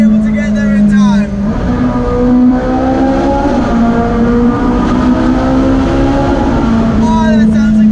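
Ferrari engine revving steadily and loudly while driving in traffic near Monaco, a strong continuous drone with rising and falling pitch; a voice briefly speaks over it.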